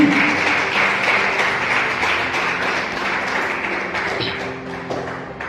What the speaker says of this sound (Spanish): Dale fuertes palmas a Jesucristo.